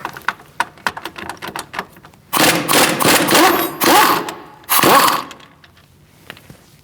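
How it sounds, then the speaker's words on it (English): A Toyota Camry's brake caliper bolt is worked loose with a 17mm socket, heard as a run of sharp clicks followed by three loud bursts of rapid ratcheting, then a few scattered clicks nearby. "17mm socket, we're going to take out this bolt and the one up here."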